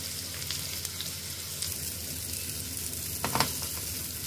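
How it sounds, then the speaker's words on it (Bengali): Salmon fillet frying in a pan on a home stove, a steady close sizzle with a brief louder crackle and scrape near the end. "স্যালমন মাছটা হবে ভাজা।"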